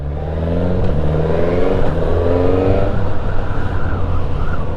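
A 2021 Suzuki GSX-S1000 motorcycle rides through town traffic, its engine droning loud and steady with rising and falling harmonic tones as it accelerates and changes gear, under continuous road and wind noise.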